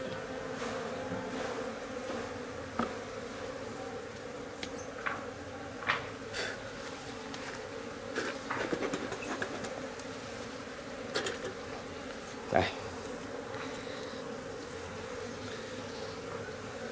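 Honeybees buzzing around hives during a lychee blossom honey harvest, a dense continuous drone from many bees, close by, with a few faint knocks and taps from the work.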